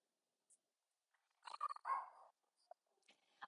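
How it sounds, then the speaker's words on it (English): A dog barks indoors in a few short, faint bursts, one after another, then gives a couple of softer yips, with near silence before and between. "Excuse my dog barking"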